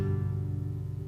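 An acoustic guitar strummed once, a single sustained chord ringing and slowly fading over about a second, soft and close, alone without speech.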